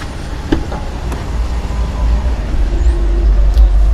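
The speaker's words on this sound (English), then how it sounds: "I've already got this truck started up" A 2019 Ram 1500 Crew Cab 4WD Longhorn pickup idles with a low, steady engine rumble, heard from inside the cab, with faint clicks and light creaks over it.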